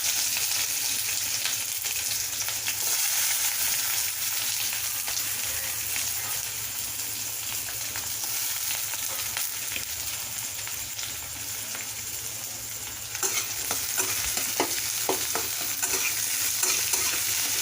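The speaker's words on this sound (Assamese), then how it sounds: "জাষ্ট অকণমান ভাজি ল'ম মানে ইয়াৰ ব্ৰাউন কালাৰ লগালে ভাজিব নালাগে" Chopped onions and whole cumin seeds fry in a pan with a continuous sizzle, under occasional stirring and clinks of a utensil; a steady low hum sits beneath.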